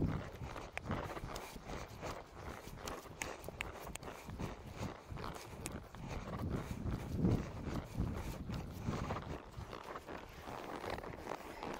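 Horse hooves clip-clopping at a relaxed walk, the horse moving loose at liberty during a rope-and-liberty riding session, with steady soft footfalls over faint wind noise and no talking.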